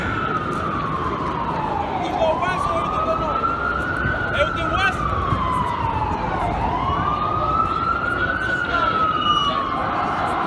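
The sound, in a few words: police car sirens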